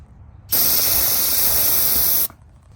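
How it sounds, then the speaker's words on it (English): A single sharp burst of aerosol brake cleaner sprayed onto a cloth for nearly two seconds with a loud, bright hiss, then cuts off abruptly to quiet. "Little brake spray on the cloth,"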